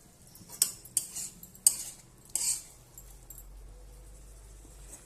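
A metal lid is lifted off a pot of boiling potatoes and pointed gourd for a prawn curry. Four sharp, close clanks land in quick succession, then a quiet, low simmering hum carries on alone.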